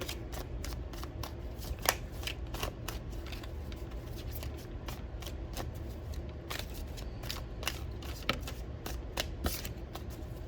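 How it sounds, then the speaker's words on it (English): A small tarot deck being shuffled over and over, a steady stream of quick riffling flutters and soft snaps lasting the whole time, close up with no talking. "This is such a small deck compared to some of my others, but it's so much easier to shuffle too."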